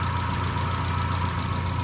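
A 1972 BMW 2000 Neue Klasse two-litre engine idles steadily up close under the open bonnet, a smooth, even mechanical hum with a light rhythmic ticking and no pauses.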